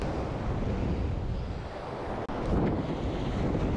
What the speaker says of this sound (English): We've got a bit of a nor'east wind blowing into our face here